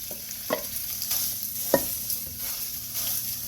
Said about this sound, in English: we're going to let that sear off in this olive oil